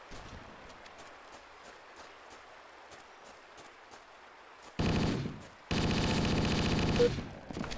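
Gunfire from a weapon in the Minecraft video game, heard as two loud, dense bursts of rapid shots close up, each breaking off sharply, after a quiet stretch of faint rhythmic game background.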